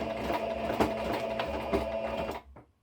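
A sewing machine runs a straight stitch along a denim seam while turning jeans into a skirt, giving a loud close mechanical whirr with regular clacking pulses that stops abruptly near the end.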